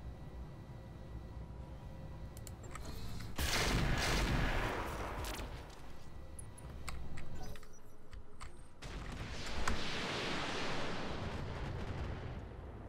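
Mech weapons firing in a Roguetech battle, heavy booming blasts and rumbling bursts in two main waves, the second starting about nine seconds in, with no talk over them.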